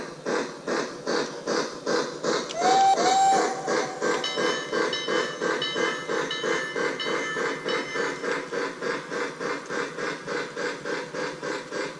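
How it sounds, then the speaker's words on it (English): A Lionel LionChief A5 model train runs steadily around the track, its rhythmic chuffing clatter repeating evenly, with a brief whistle toot early on and mechanical whine throughout. "now that I have the train recoupled, let's go and just run a couple laps"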